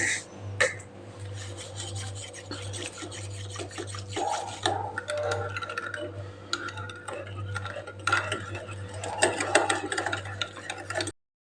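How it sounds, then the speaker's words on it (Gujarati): A whisk works through yogurt and sugar in a bowl with rapid scraping and rasping strokes and scattered clinks against the sides, continuing for about eleven seconds before it stops abruptly. "અહીં આપણે એકદમ સરસ વિસ્કરથી મિક્સ કરી લીધું છે એટલે કે દહીંને ખાંડ સાથે એકદમ સરસ ફેટી લીધું છે"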